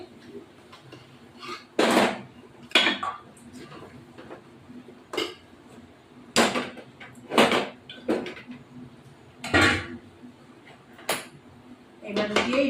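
Pots and a pressure cooker are handled in a kitchen while mutton is cooked. Metal clanks and knocks come in irregular bursts, with quieter shuffling between them.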